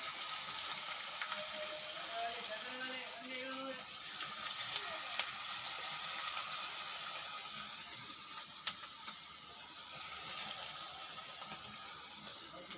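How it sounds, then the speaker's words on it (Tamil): Chicken onion pakoda pieces frying in hot oil, a steady broadband sizzle running throughout at moderate level with small crackles and pops scattered over it. "இப்போ நம்ம இதை எண்ணெயில் போட போகிறோம்"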